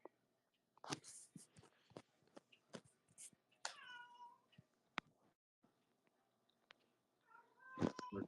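A pet cat meows close by, making a few distinct meows among scattered clicks and knocks in a quiet room, with a louder rustling burst near the end.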